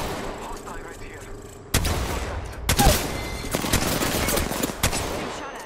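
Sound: gunfire in the video game Apex Legends

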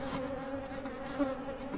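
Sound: bees buzzing around a beehive

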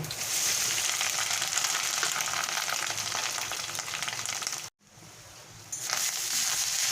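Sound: coconut frying in a pan

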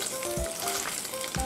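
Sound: food sizzling in frying pan

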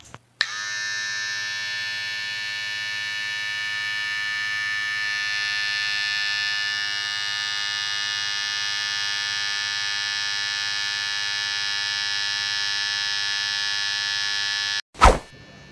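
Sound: electric hair trimmer buzzing while cutting hair

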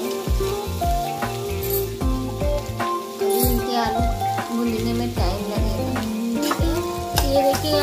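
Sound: potatoes roasting in ghee in a pan

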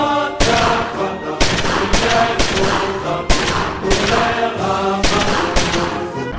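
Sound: rubber bullet gunfire

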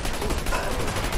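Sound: gunfire in the video game Dirty Bomb

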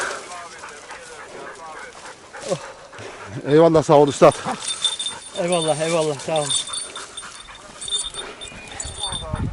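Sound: dog

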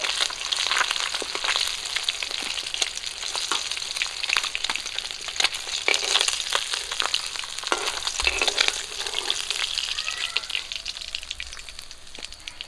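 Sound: river bata fish frying in oil

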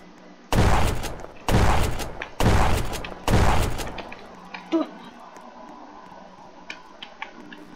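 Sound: gunfire in the video game Roblox Prison Life

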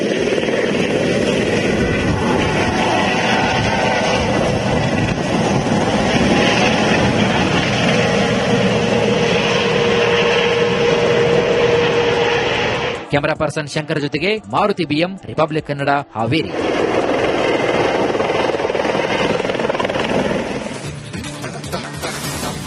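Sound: helicopter flying

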